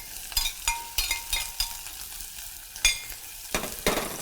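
Chopped onion sizzles in a hot pan for steamed rice, a steady frying hiss broken by repeated stirring scrapes and clinks of a utensil, close and clear with no talking.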